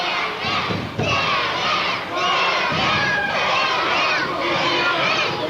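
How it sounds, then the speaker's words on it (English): A wrestling crowd at an independent show chants loudly and continuously, a dense wall of massed voices with rhythmic surges and no pause throughout. "Chant going up for the Sandman from the crowd here."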